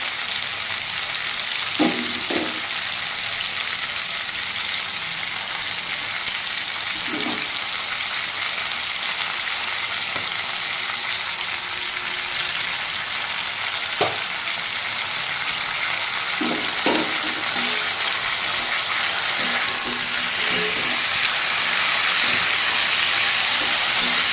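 An onion, garlic and ginger paste fries in hot oil with a continuous hissing sizzle. Occasional soft clicks of a spoon are heard, and no one speaks.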